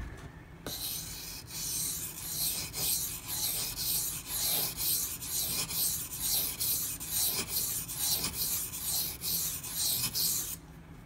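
Knife blade stroking a Gritomatic silicon carbide sharpening stone in steady, rhythmic passes, about a dozen even rasping strokes close up with no talking.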